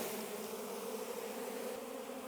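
Honey bees from a shaken hive frame, buzzing in a steady, dense swarm drone that stays close and even for the whole clip.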